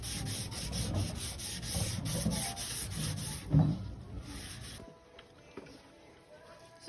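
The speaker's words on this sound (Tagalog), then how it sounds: "Kailangan muna natin lihain ito ng lihain." A dented car fender being hand-sanded with 600-grit sandpaper, a steady raspy rubbing that runs continuously for several seconds, then thins out into fainter, scattered scrapes.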